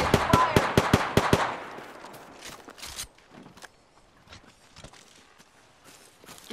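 Gunfire in the video game Apex Legends: a rapid burst of about eight loud, close shots, then scattered fainter impacts and footsteps with quieter game sounds trailing off.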